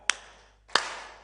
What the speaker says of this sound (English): Now, we all have to clap together because this is one story.